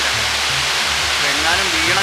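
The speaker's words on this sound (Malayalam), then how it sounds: "നല്ലോണം വെള്ളം ഒഴുകുന്ന സ്ഥലമാണ്, ഉറപ്പാണത്." Water rushes at Iruppu waterfall in Kerala, a loud, constant roaring wash close by, with a voice speaking over it.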